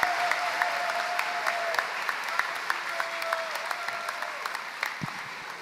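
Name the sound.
graduation ceremony audience applause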